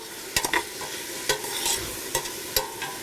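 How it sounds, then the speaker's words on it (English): Pepper and corn soup ingredients sauté in a pan, a steady sizzle broken by several sharp scraping stirs of a utensil against the pan, close and clear with no talking. "So we're going to let this saute for about 3 to 5 minutes"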